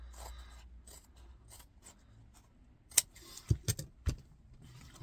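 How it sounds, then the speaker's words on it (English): Scissors snip through leather for a drawstring pouch in a few sharp, close cuts clustered together, with soft handling rustle and scraping beforehand. "I'm just using scissors"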